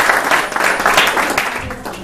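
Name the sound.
audience applause at networking event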